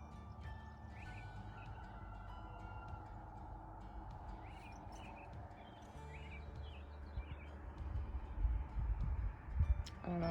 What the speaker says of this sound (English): I don't know if you can hear the birds chirping out here this morning